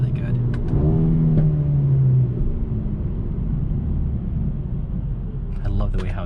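A 2021 Mercedes-AMG A35 in Sport Plus mode with its exhaust valves open revs up to a rising snarl, then settles into a deep, close rumble, with a voice heard over the start and end.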